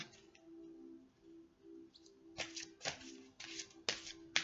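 Large angels-of-light oracle cards being shuffled by hand, with soft rustling that gives way to several sharp riffling snaps near the end, close and moderately loud, over faint bird chirps and a low background hum.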